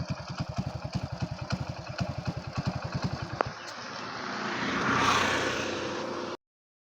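A Hero Honda CD100 motorcycle engine idles nearby with a steady, rapid thumping beat for about three and a half seconds. It then cuts out, leaving a soft hiss of background noise.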